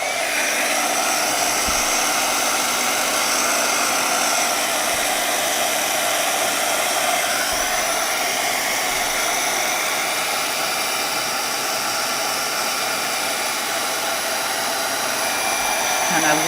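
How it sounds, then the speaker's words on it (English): A heat embossing tool blows a steady, loud whirring roar that holds unbroken from start to finish while it warms and melts embossing glaze. "Kind of warming it all up before the embossing glaze actually starts to melt"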